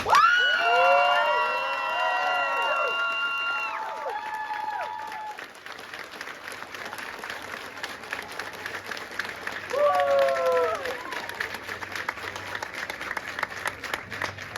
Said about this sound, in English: Please give your soldiers a round of applause